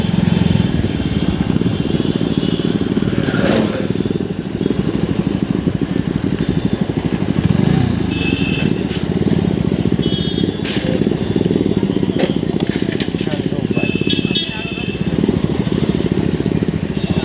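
A Bajaj NS200 motorcycle runs with its exhaust removed, making a loud, raw, crackling engine drone that stays steady and close throughout, with a few sharp pops and faint background voices.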